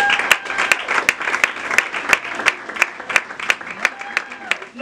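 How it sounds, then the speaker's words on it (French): An audience claps steadily at a certificate ceremony, with dense applause and sharp individual claps standing out, loud and close, with no talk. "applaudissez comme il se doit"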